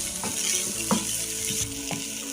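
Paratha filling with soy sauce, chaat masala and spices being stirred in a hot pan, a continuous sizzle broken by a few soft scrapes of the spoon, with a background hum and no voices.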